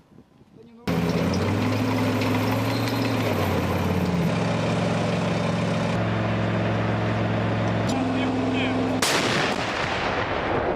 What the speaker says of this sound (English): with Ukrainian tanks brought into action